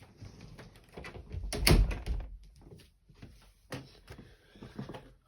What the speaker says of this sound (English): let me go ahead and close the door because my father's making noise